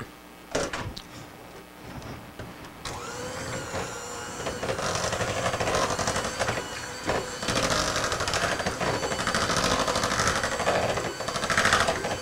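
Cheesecake batter with pumpkin pie spice and vanilla is mixed, starting with a few knocks and clatters before a continuous whirring, buzzing motor takes over and runs loudly to the end.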